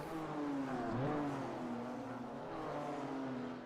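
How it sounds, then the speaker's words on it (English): A race car engine at Circuito de Navarra drones steadily, its pitch sliding down in quick steps as it downshifts, loud and close throughout. "can hear the downshifts here from Ryan Glover"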